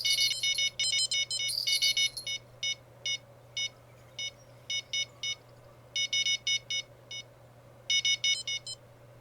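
The fishing rod bite alarm in the game Fishing Planet rings as rapid bursts of high electronic beeps, grouped in irregular clusters over a steady low hum, loud and close throughout.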